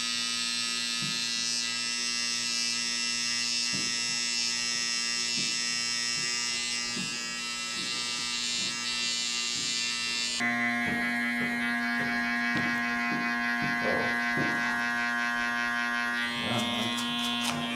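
Electric hair clippers with a 0.5 guard buzz steadily up close during a barber's lineup on braided hair, a constant high-pitched motor hum with small shifts in tone as the blade moves.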